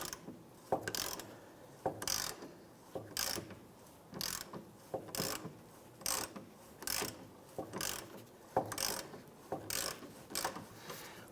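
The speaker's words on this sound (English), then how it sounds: "Go ahead and switch over to your ratchet." Ratchet clicking on a shock absorber bolt at the rear suspension of a 2001-2005 Honda Civic, with steady back-and-forth bursts of sharp ratcheting clicks repeating roughly every second, close and clear with no talk.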